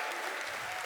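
Audience applause from a played recording of a comedy show, a short, dense burst of clapping at moderate level with no speech over it.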